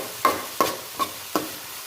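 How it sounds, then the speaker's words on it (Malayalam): Chopped tomatoes stirred in a frying pan for crab biryani: four evenly spaced scraping strokes against the pan over a faint sizzle. "അരിഞ്ഞു വെച്ചേക്കുന്ന തക്കാളിയും കൂടെ ഇട്ട് കൊടുക്കാം. നല്ല രീതിയിൽ ഇളക്കുക."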